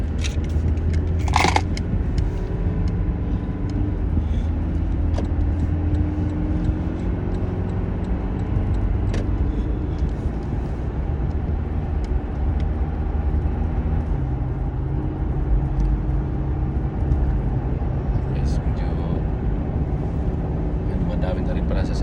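Steady roar of busy motorway traffic heard from inside a moving vehicle, a continuous broadband rumble with cars passing, loud and unbroken throughout.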